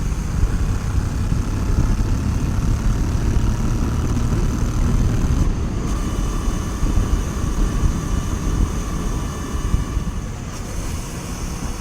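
A Royal Enfield Interceptor 650 motorcycle cruising along country roads, its steady engine drone and wind rush holding constant and loud throughout, with no talking.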